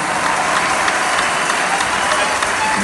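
Applause at a church gathering in Abuja honoring a governor, dense steady clapping from a large crowd with voices mixed in throughout, loud and continuous.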